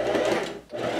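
A sewing machine runs in a steady close whir while stitching a summer dress closed at both armholes and the center seam, dipping briefly before running on again.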